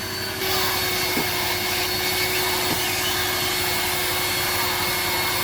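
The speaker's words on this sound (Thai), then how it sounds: "เราก็จัดการดูดฝุ่นทำความสะอาดนะคะ" A vacuum cleaner roars steadily inside a Chevrolet Captiva diesel while the dashboard is removed for cleaning. The loud, constant whine starts abruptly and holds for several seconds, with two faint knocks.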